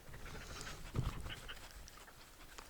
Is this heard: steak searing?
no